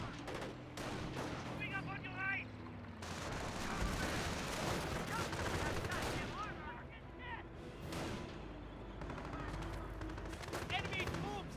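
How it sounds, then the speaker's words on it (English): Gunfire from the video game Company of Heroes, with repeated bursts of rifle and machine-gun fire and explosive booms that crackle through a busy battle soundscape. Brief unit voice lines cut in over the shooting. "Enemy troops are firing on us."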